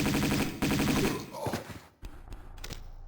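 Rapid bursts of Uzi fire in Tomb Raider II rattle densely for about a second and a half, then give way to a few scattered game impacts and clicks.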